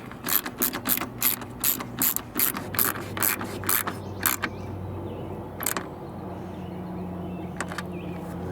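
A ratchet tightening the tail light bolts on a 2018–2025 Toyota Camry gives quick bursts of close, crisp clicking in rapid runs, then fades to faint background hum with a few stray clicks.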